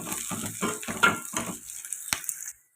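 Onions frying in a pan with curry leaves for chicken curry, a steady close sizzle with a few stirring scrapes and a sharp clink near the end, no talk.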